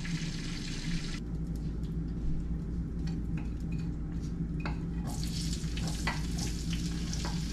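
Food sautéing in a pan, a steady close sizzle and crackle with some stirring scrapes, running continuously throughout without speech.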